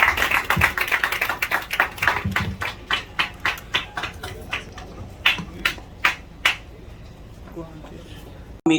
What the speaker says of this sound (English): because I know that that report deserves a rousing round of applause